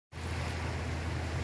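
Water pouring across a damaged, washed-out road in Makawanpur, a steady broadband rushing that starts abruptly and holds loud and constant, with no voices.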